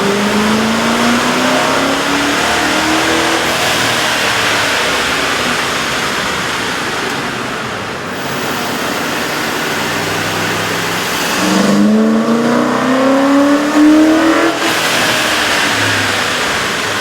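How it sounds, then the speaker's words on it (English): A Ford F-150 with the 5.4L engine and a K&N air intake revs loudly on a dyno, two rising pulls climbing in pitch, separated by a steady roaring hold, with constant rushing noise throughout. "With the air intake installed, we ran the vehicle on the dyno to test the sound comparison versus the stock intake."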